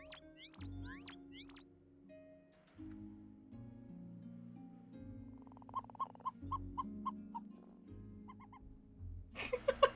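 Cartoonish bird calls from the video game Genshin Impact: quick chirps early on, then a run of evenly spaced hooting notes and a busier flurry at the end, all over steady in-game music.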